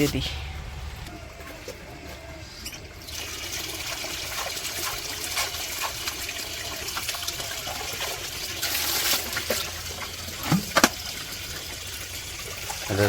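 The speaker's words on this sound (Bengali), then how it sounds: "এখন আর কি পানি দিয়ে দিব তো ওষুধ মিশিয়ে পানি" In a rainy village in Bangladesh, water mixed with medicine is poured for chickens from a five-litre drinker, a continuous trickling splash that runs on beneath a talking voice, with a few sharper knocks toward the end.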